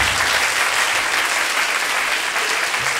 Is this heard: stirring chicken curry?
no